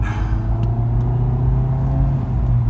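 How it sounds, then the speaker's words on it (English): A Mini Cooper Clubman S engine hums and whines steadily as the car pulls onto a main road, a constant low drone with a thin whine on top, close and loud throughout. "Listen to that little engine whine."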